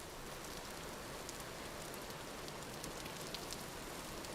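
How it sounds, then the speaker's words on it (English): Steady rain falls in the survival video game Vintage Story, a dense even hiss of drops with faint pattering spread evenly throughout, alone with no voices. "And it's starting to rain."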